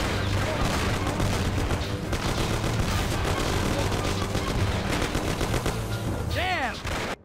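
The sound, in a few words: gunfire in the video game Mafia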